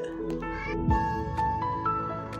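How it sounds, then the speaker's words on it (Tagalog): Several pet cats meow repeatedly and close by, waiting to be fed cat food, their overlapping calls rising and falling in quick succession over a brief busy stretch with no talk. "pakakainin ko muli yung aking mga alagang pusa"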